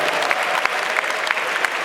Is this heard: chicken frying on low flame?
no